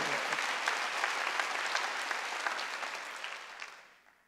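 A church congregation claps together in steady, dense applause that fills the room, then gradually fades away toward the end.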